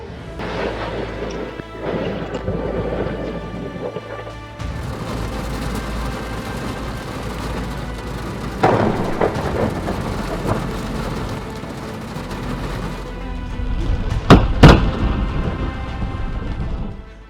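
A thunderstorm with heavy rain roars throughout, broken by a sharp crash of thunder midway and a loud, close lightning strike cracking near the end.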